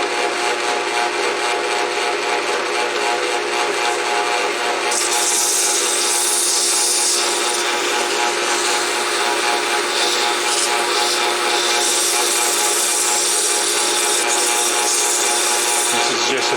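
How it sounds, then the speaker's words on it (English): Sanding a small wooden spinner on a lathe, a loud steady rasping hiss over a continuous motor hum that runs unbroken and close throughout, with no speech. "I gotta sand this"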